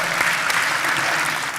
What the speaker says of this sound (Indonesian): tepuk tangan dulu dong buat keberanian mbaknya.